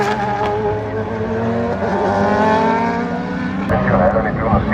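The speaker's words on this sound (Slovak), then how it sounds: "Ďalší 12-valcový Aston." A 12-cylinder Aston Martin race car passes at a WEC endurance race at Imola, its loud, steady engine howl rising and shifting as it goes by, with a spectator talking over it.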